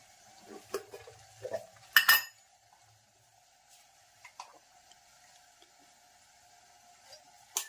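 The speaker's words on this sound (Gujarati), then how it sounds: "મીઠનો પાવડર અને ટોપરાનો પાવડર અને ગોળ મિક્સ કર્યો." Salt, coconut powder and jaggery being stirred together in a pan over low gas, giving scattered soft scrapes and a few sharp utensil clinks against the vessel, with quiet gaps between strokes.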